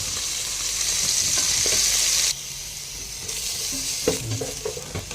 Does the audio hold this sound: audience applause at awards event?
no